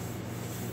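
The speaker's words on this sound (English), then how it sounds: "So let's get sanding this area here and get some filler on it." Sandpaper is rubbed steadily over the bodywork of a Honda ATC90 during restoration, giving a brief, continuous, even scratchy hiss with no pauses.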